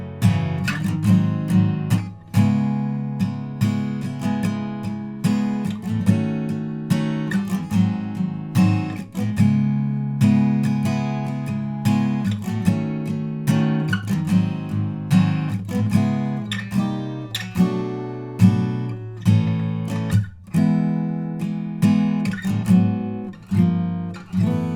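An acoustic guitar plays the chorus of a song solo, a continuous run of plucked chords and single notes with strings left ringing, close and clear with no voice.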